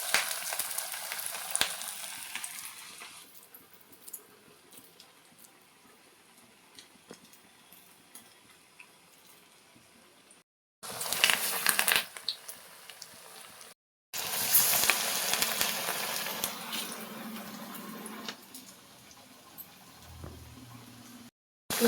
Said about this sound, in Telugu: ఇప్పుడు నూనె వేడైపోయింది. మనం వడ నూనెలో వేసుకుందాం.